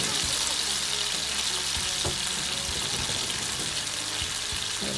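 Pork stir-frying with ginger in hot oil, a loud, dense, continuous sizzle heard up close, with occasional clicks and knocks of the pan or utensil beneath the hiss.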